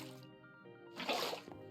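Water splashing from a bucket in Minecraft, a short soft sloshing pour after a faint tonal game sound, quiet and close.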